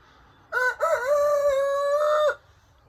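A single rooster crow, loud and close, rising then holding a long drawn-out call for about two seconds against a quiet background.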